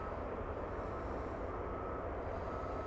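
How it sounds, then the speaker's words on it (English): Cargolux cargo plane passing overhead at DFW Airport, a steady broadband engine roar that holds level throughout with no voices. "So that Cargolux plane just now passing over Will Rogers"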